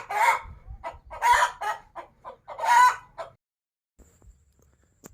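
A hen clucks in a series of close, loud calls with short pauses, then a brief quieter stretch with faint sounds near the end.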